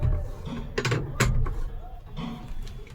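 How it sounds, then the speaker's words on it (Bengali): A large wrench turns slowly to tighten a size 21 nut, giving a few close metallic clicks and rasps in an uneven rhythm with some low rumble beneath. "মোটা সাইজের নাট 21 নম্বর জন্য বড় একটা রেঞ্জ চলে এলো। এবং টাইট দিলাম আস্তে আস্তে"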